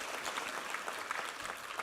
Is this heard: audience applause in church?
yes